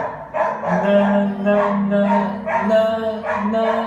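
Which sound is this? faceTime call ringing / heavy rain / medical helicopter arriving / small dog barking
small dog barking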